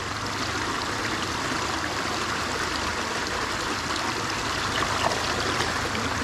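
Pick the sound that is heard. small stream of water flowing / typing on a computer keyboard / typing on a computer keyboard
small stream of water flowing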